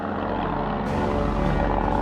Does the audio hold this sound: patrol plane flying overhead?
yes